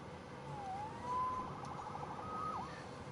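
A police siren in the video game Marvel's Spider-Man on PS4 wails faintly in the distance, its rising and falling tone drifting over a low background hum, with no one speaking.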